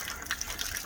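Waste water gushes steadily out of a camper van tank drain outside, a continuous close rushing splash with no one speaking.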